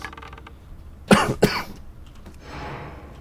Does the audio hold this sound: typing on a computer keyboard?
no